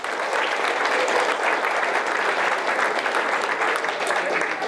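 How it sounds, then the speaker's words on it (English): A leadership summit crowd gives a full round of applause for a colleague. The clapping is dense and steady and holds at an even loudness from start to finish. "Let's just do a round of applause here."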